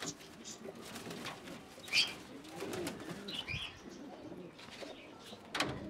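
Pigeons, including a pink gandedar-type bird, make soft scattered coos and brief chirps close by, with faint rustling and low background noise.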